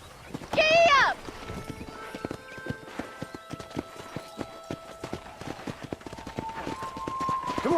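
Horse hooves clip-clop at a steady walking rhythm while cattle are herded in the Red Dead Redemption video game, with a short loud whinny near the start and a faint hum running underneath.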